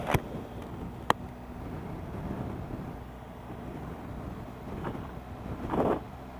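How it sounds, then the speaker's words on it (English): Steady wind buffeting a microphone, a continuous roar with a few sharp knocks and gusts, no talking. "Woo, it's windy."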